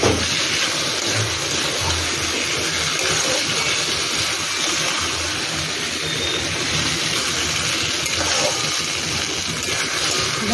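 Water poured into a pan of soaked, sautéed rice while cooking Bengali muri ghonto, a steady broadband rush with a low rumble running throughout.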